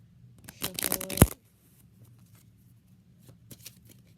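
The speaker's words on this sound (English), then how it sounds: "we're going to cut the deck a few times, shuffle it." A deck of playing cards shuffled by hand during a card trick, one quick, crisp riffle ending in a sharp snap, close and alone, followed by near silence with faint handling noises.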